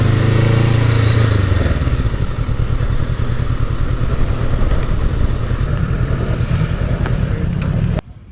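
Honda NX 500 motorcycle engine droning steadily while riding, loud and continuous with wind buffeting the microphone, cutting off abruptly near the end.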